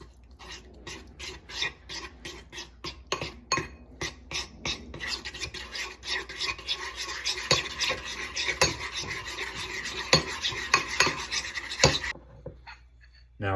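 A utensil stirring brownie batter of butter, chocolate, peanut butter and caramel in a bowl, giving a steady run of close scraping and rasping strokes that get busier midway and stop abruptly near the end.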